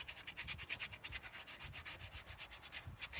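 An old Volvo engine part gets a quick surface clean-up before a new gasket goes on, a close, rhythmic back-and-forth rubbing or scrubbing with even, rapid strokes and no voices.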